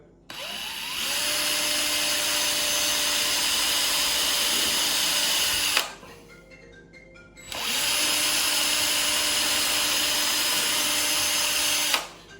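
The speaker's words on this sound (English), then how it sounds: "Drill your 3 holes," A power drill runs loud and steady for several seconds, stops briefly, then drills again for another long stretch, drilling holes to install a SafeOpen, close by with no talking.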